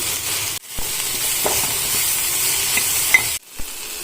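Turmeric is stirred into a green peas and tomato curry in a pan, giving a steady frying sizzle broken by a few spoon scrapes and clinks, near and fairly loud.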